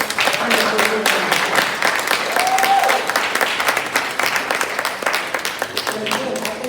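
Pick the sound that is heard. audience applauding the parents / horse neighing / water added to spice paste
audience applauding the parents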